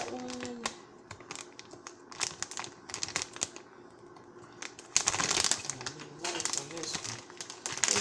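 A plastic food package crinkles and rustles as it is pulled open while preparing pressure-cooker chicken Alfredo, in irregular bursts that grow louder and denser near the end.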